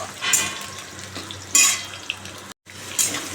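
Potato sizzling in hot oil with cumin seed tempering, dried chili and bay leaves, a close steady fry punctuated by three sharp bursts of sizzle or stirring scrapes, with one brief dropout near the end.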